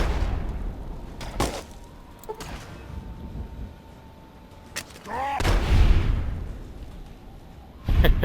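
Explosions blowing up a super mutant in the video game Fallout, several sharp booming blasts spaced apart, one followed by a long rumbling roar and another loud burst near the end.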